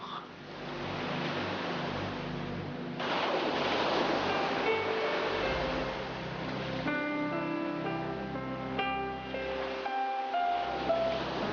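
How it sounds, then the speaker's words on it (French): Sea waves roll onto an Algerian shore in a continuous soft wash. The surf holds steady throughout, with faint tonal sounds rising in the later part. "De ces vagues qui caressent éternellement ses rivages"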